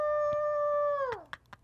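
A person imitates a wolf howl with one long sustained wavering tone that slides down at the end, fairly loud and close, followed by brief breathy sounds.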